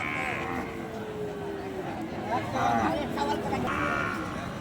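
An Indian bull lows with a long, drawn-out moo amid the busy murmur of a cattle market crowd, with people talking nearby throughout.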